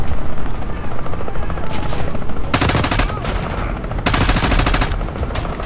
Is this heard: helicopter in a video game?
yes